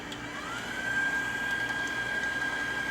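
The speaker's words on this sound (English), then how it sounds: "And we'll put this in our blender and just let this get started." A blender whirs steadily as it mixes recipe ingredients, including Grand Marnier, with a loud continuous motor drone and a thin high whine sustained throughout.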